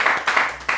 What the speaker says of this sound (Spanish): No sé si pueden aplaudir para que escuchen algo.